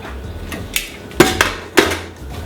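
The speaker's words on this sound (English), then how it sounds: "now I can take my lid off" A metal lid comes off a pressure cooker after cooking chickpeas, a few sharp clanks and knocks of metal against metal, close and distinct with no talk.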